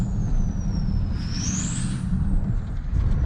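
A 6.0 truck engine runs with a steady, loud, low rumble, and a thin whine slides downward and then rises partway through.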